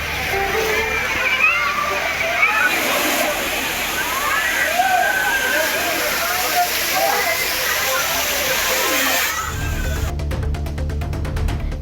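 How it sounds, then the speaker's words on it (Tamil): Waterfall pouring steadily at a summer tourist spot where crowds of visitors stand in a long queue to bathe, with continuous rushing water and splashing throughout and a brief change in texture near the end. "அருவியில் கொட்டும் மிதமான தண்ணீரில் பயணிகள் நீண்ட வரிசையில் நின்று உற்சாகமாக நீராடினர்"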